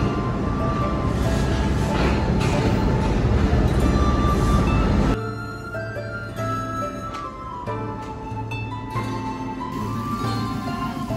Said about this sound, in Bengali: আমাদের ট্রেনের লোকোমোটিভ এই যে সামনে আসতেছে, এই লোকোমোটিভই আমাদের ট্রেনকে টেনে নিয়ে যাবে মোংলা পর্যন্ত।